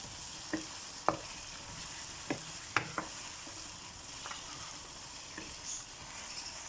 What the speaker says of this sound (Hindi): अब हम इसको साथ साथ फ्राई करते रहेंगे